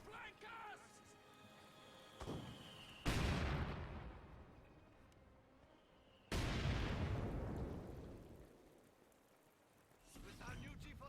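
Mortar shells land in Company of Heroes 2, two heavy booming blasts several seconds apart with long rumbling decays, amid scattered gunfire and battle noise.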